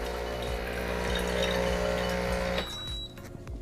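A Breville Barista Pro espresso machine runs its rinse cycle after descaling, giving a steady pump hum with water flowing. The hum drops away sharply near the end, leaving a faint tone and small clicks.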